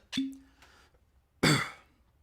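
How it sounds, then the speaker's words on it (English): Two short, harsh coughs separated by a pause of about a second, close and fairly loud, with nothing else around them. "Still got this cough hanging on."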